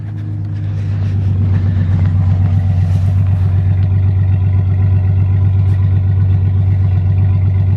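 A Chevy 1500 pickup truck engine idles loudly and roughly after starting, a low steady rumble with a rattly, uneven pulse that builds in the first second and then holds.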